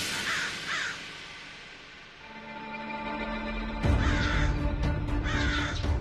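Crow cawing close by in a quiet indoor-sounding TV drama scene, a few harsh repeated caws with a brief pause before a louder burst of calls, no voices.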